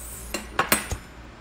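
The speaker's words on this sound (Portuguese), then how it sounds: "Os talheres." Metal cutlery set down on a kiln-made cutlery rest gives four crisp, close clinks in quick succession before fading to quiet.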